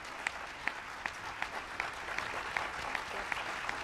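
Faint, distant applause from an audience at an official nomination ceremony, with a few sharper individual claps standing out from a soft, steady patter.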